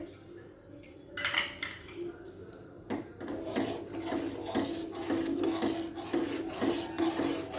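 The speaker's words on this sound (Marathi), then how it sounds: "आणि चांगलं सतत हलूया आपण याला घट्ट होईपर्यंत हलवायचं आहे" Milk thickened with sugar and cardamom for burfi, stirred in a metal pot with a spoon, giving steady rhythmic scraping and clinking up close, with some talk in the background.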